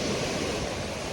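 Sea waves wash and surge at Freshwater Bay on the Isle of Wight, a close, loud, continuous rush of surf with some wind noise.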